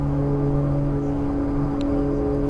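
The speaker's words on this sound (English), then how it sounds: "That loud engine sound you're hearing is because the reversers are on" Simulated MU-2 turboprop engine in X-Plane 11 with thrust reversers deployed: a loud, constant droning roar with steady tonal hum, unbroken and unchanging throughout.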